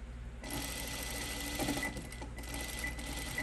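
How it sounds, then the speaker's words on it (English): Sewing machine basting a seam on pajama shorts with a long stitch, a steady continuous mechanical whir running throughout, close and moderately quiet, without talk. "I wondered why I sewed this so fast. It's because I'm in a long stitch. I just basted that whole"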